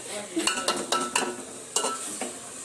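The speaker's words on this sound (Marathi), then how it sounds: "मिश्रण मिक्स करणार आहोत" A spoon stirs and mixes a biryani mixture in a pot, giving a handful of sharp scraping clacks spaced irregularly over a soft sizzle, close and fairly quiet.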